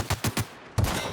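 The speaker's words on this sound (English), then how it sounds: "Open fire!" Enemy gunfire in The Outer Worlds, a quick burst of three close, sharp shots followed by a brief pause and another louder shot.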